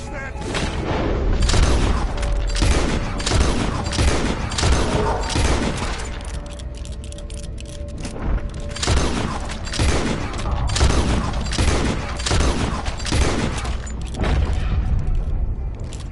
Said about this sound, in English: Keep shooting! Finish that!